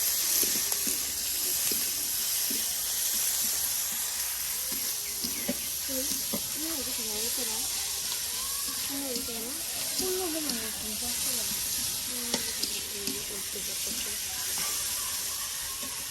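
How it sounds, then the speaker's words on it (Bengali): Onions and green chilies fry in hot oil with a steady broad sizzle that runs throughout, while someone talks over it. "আর তেলের সাথে কিন্তু এগুলো ভালো করে দেখুন এই যে ভেজে নেওয়া হবে।"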